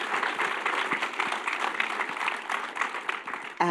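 Audience applause at a speaker series talk, a sustained close wash of many hands clapping, steady and fairly loud throughout.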